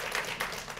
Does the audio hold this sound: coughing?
no